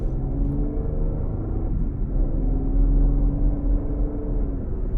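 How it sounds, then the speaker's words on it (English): Inside a Lincoln Aviator luxury SUV in Excite mode, the engine holds high revs with a loud, continuous low rumble and a steady drone that swells slightly midway, with no talking. "I wanted to hear that engine, because it's in Excite mode."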